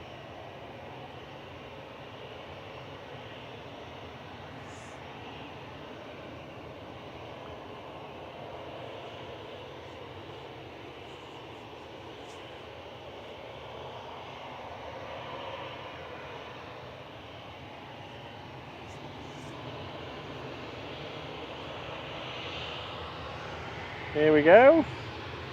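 An EasyJet airliner bound for Pisa at Manchester Airport makes a low, fairly faint, continuous engine rumble that swells slightly, with a brief voice near the end.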